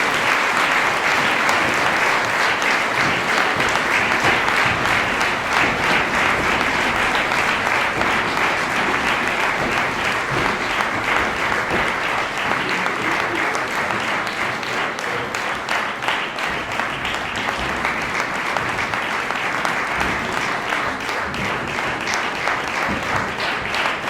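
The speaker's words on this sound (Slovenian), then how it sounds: "Dajmo en aplavz." A large audience gives sustained, dense applause for a primary school youth choir at a spring singing festival, loud and even throughout with no voices breaking through.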